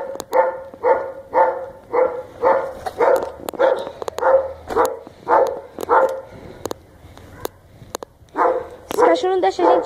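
A dog barks repeatedly in steady bursts, loud and close, on a street where someone is riding a bicycle; a few sharper yips come near the end, with brief clicks and handling noise between barks.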